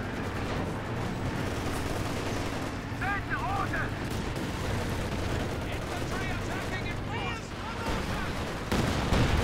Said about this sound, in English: Now it's Katyusha straight into the advancing horde of infantry.